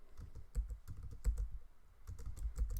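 Quiet, close typing on a computer keyboard, with irregular bursts of soft key clicks and a few heavier taps spread across a short moment.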